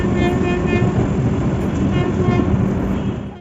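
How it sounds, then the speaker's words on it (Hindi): The New Delhi–Kathgodam Shatabdi Express rolls into Kathgodam station in Nainital, Uttarakhand, taking a curve on arrival, with a loud steady rumble, rhythmic wheel clatter and squealing from close by, fading slightly at the end. "अपनी ट्रेन ब्यूटीफुल कर्व खूबसूरत सा इंटर के साथ पहुंचती हुई कर्व लेते हुए अपनी फाइनल डेस्टिनेशन उत्तराखंड के नैनीताल काठगोदाम रेलवे स्टेशन"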